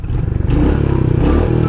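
A Royal Enfield Hunter 350 motorcycle engine running close by as the bike rides off, a deep throbbing single-cylinder thump that stays loud and steady, with a rougher rise midway and no talk.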